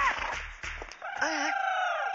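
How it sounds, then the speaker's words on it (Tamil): A rooster crows with a rising then sustained, wavering call lasting over a second, close and fairly loud, following a few brief rustling sounds and low thumps. "எப்படி நல்ல சேவல்? இப்ப பாடுறா."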